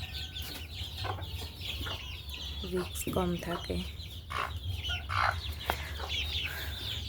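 Caged chickens cluck repeatedly close by over a low steady hum, while someone speaks briefly.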